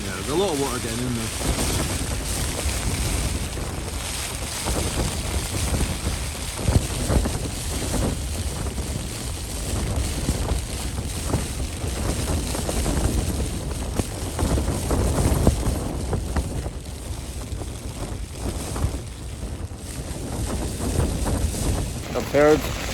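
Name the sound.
strong wind and rain on tent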